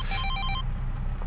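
An in-game telephone in Farming Simulator 22 rings with a bright electronic trill for about half a second and then cuts off, leaving a steady low background rumble, loud and close.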